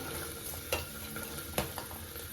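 Beans tipped into golden-brown onions frying in a pan, giving a steady hot sizzle with a few stirring scrapes and clinks, close and with no voices.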